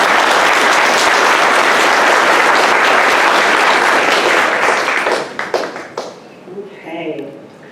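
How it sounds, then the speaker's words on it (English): Loud crowd applause fills the room for several seconds, then tapers into a few scattered claps before a voice begins speaking. "So can we get a round of applause for this?"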